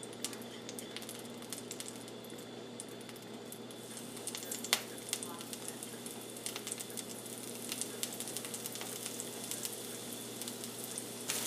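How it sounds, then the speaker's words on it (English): Breaded pieces frying in vegetable oil in a cast iron pan on the stove, a soft steady sizzle with faint crackles and occasional light clicks, heard close but quiet with no one talking. "I have a cast iron pan with some vegetable oil on the stove, heating up, and I'll toss these in there and fry them."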